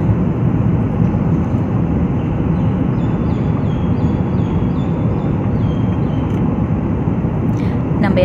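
Inside an airplane coming in to land in Delhi, a loud steady roar of engines and cabin noise carries on throughout, with faint high chirping sounds over it.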